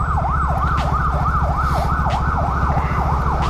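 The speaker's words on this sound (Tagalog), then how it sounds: "Padaanim na natin yung ambulansya kasi ano, yan na, para rinig sa vlog" An ambulance siren wails in a fast, regular rising-and-falling pattern, loud and close over a rumbling motorcycle engine as it passes.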